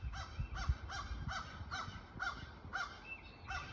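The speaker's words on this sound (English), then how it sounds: "Stupid crow." A crow caws repeatedly in a steady series of about eight harsh calls, moderately close, over low rumbling background noise with no speech.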